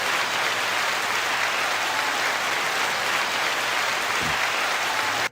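A crowd clapping in a thick, unbroken wash of applause, loud and even throughout with no talking, ending suddenly.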